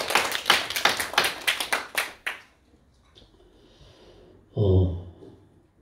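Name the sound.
congregation clapping in church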